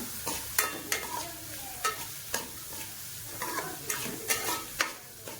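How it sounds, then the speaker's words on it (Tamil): Finely chopped shallots and onions sauté in a pan for mutton gravy, a soft, steady sizzle broken by repeated scraping strokes of a spatula stirring at a quick, irregular pace, close by and without talk. "இப்போ இதை நல்லா வதக்கிக்கலாம்"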